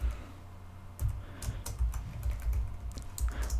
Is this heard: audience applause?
no